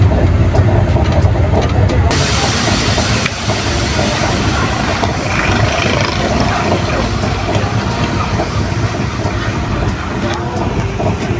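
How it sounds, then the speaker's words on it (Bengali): A train pulls into Bardhaman station, heard from on board as a loud, steady, close rumble that fills the whole stretch. "এখন ট্রেন ঢুকলো বর্ধমান"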